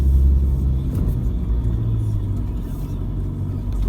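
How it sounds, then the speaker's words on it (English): A 4x4 engine rumbles low and steady as the vehicle climbs a steep, washed-out hill track, a close, continuous drone with slight surges, with a voice speaking over it. "I like to keep the vehicle pointing straight up the hill for the steeper sections"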